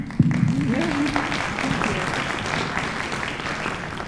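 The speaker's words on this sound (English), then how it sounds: "Please applaud for the panelists whenever you like." An audience at a Martin Luther King Jr. commemoration panel applauds the panelists, a steady wash of clapping that begins sharply and fades slightly, with a voice heard briefly at the start.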